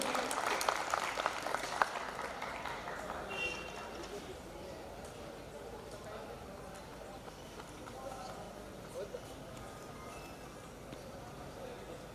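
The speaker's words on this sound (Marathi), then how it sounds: "सर्व स्पर्धकांसाठी इथे उपस्थित श्रोतांनी एकदा जोरदार टाळ्या वाजवाव्या अशी मी त्यांना विनंती करतो" Steady applause from an audience at a public lecture, continuous clapping throughout, somewhat distant and moderately loud, starting slightly stronger and then holding even.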